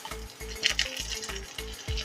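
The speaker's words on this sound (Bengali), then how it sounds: "আমি এবার পেঁয়াজ আর ক্যাপসিকামটা দিয়ে দেবো একসাথে।" Onion and capsicum frying in a pan with ginger, garlic and green chili for chilli paneer: a close sizzle over a quick, regular series of low knocks, likely a spoon working the pan.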